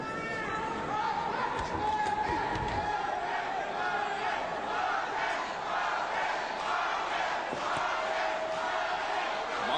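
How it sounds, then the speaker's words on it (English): A boxing arena crowd chanting for Marquez at the Norwood vs Marquez fight of 1999, a rhythmic mass chant rising and falling with general crowd roar underneath, heard at a distance. "Marquez fans in the crowd chanting Marquez, Marquez. And the Norwood crowd picks up the opposite chant."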